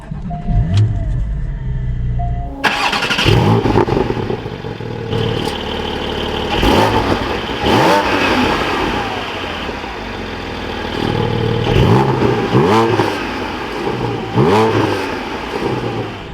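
Porsche Cayman GT4 sports car engine cranks and fires up after a quiet moment, settling into a loud idle and then rising in several sharp revs with falling pauses between, close to the exhaust.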